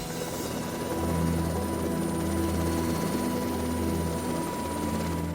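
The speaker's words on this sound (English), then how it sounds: "The helicopter is the undisputed champion of the injured and the sick." A helicopter flies nearby, its rotor and turbine making a loud, steady droning hum with a rhythmic throb that holds throughout without any voices.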